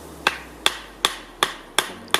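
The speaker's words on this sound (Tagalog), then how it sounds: "Martilyo." Sharp hammer-like blows struck by hand rather than with a hammer, six evenly spaced hits about every 0.4 seconds, crisp and close, with no talk over them.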